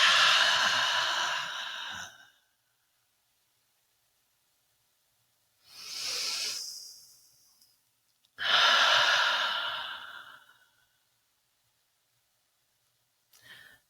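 Slow, deep breaths during a guided meditation: a long, audible exhale, a pause of silence, then a deep inhale and a full breathy exhale, each close and soft.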